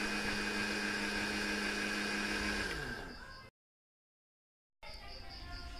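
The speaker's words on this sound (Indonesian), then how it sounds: "esen vanila sedikit, dan kita blender sampai halus" A kitchen blender whirs steadily, mixing cake batter with vanilla essence. The hum is loud and continuous, then winds down and stops, leaving a short silence before a quieter stretch resumes.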